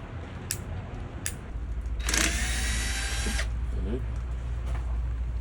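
A cordless power drill drives a screw during a spa leak repair, its torque clutch set to a higher number; one loud whirring burst of about a second stands out over steady background hum.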